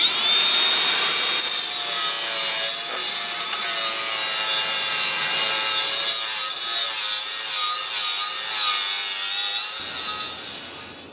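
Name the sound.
Makita cordless angle grinder with flap disc grinding metal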